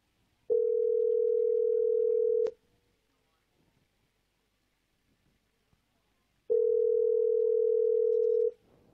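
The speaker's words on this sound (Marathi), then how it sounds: "मुलगा बायकोला फोन करतो आणि मुलाच्या वाढदिवसाला बोलावतो" Two long, steady telephone tones, each about two seconds, sound from a handset in a stage skit, separated by a quiet gap with faint background noise.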